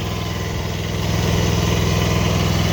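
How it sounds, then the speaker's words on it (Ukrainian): A tractor engine runs steadily at close range in a potato field during digging, a loud, continuous low rumble and chug with no pauses. "Трактор їде сам."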